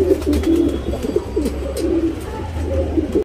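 A pigeon coos close by in a repeated, soft, low rhythmic warble that goes on throughout, with no talking.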